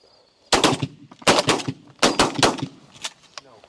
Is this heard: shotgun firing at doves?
yes